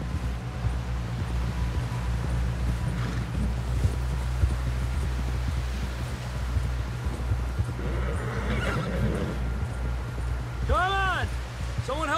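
In the video game Red Dead Redemption 2, a horse whinnies near the end over a steady rumble of hooves clopping, with voices talking underneath.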